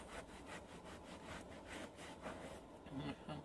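Cleaner rubbed into the leather headrest of a Porsche Boxster seat by hand, a soft rhythmic back-and-forth scuffing repeated steadily at close range, with faint speech briefly near the end.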